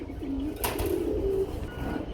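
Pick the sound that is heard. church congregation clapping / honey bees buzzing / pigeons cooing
pigeons cooing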